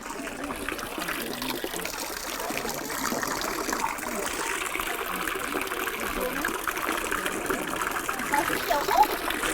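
Spring water from an underground aquifer trickles and flows steadily inside a grotto in Gyeongju, a continuous close watery wash with faint voices around it.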